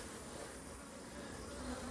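Honey bees buzz around the hives of a grassy apiary, a dense, steady drone filling the air without a break.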